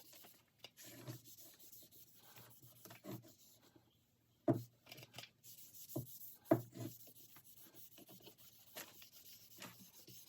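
A cloth soaked in rubbing alcohol wipes down a Mosin rifle, giving soft, intermittent rubbing and scrubbing strokes with a few sharper knocks, close and quiet with no talking.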